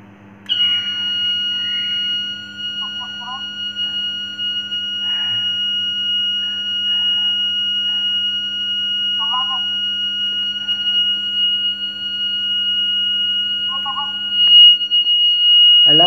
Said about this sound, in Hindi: अलार्म एक्सेप्ट कर लो सर